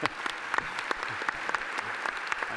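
An audience applauds at a talk on stage, a dense continuous clatter of many hands with a few sharper individual claps standing out, steady for the whole stretch, with faint voices underneath.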